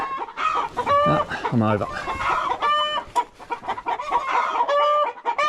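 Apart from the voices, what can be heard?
chickens clucking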